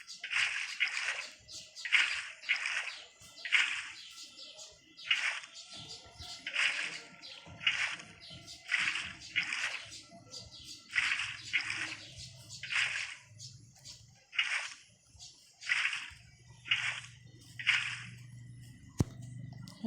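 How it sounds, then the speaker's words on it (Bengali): Water sounds from the video game Minecraft come as a series of short, bright splashing bursts in a loose rhythm, with a faint low hum running underneath. "এখন এদিকে পানি দেবো"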